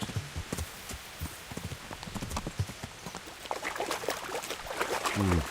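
A war horse's hooves clip-clop irregularly on the ground in Kingdom Come: Deliverance, fairly faint among soft outdoor ambience, with a brief snort or whinny near the end.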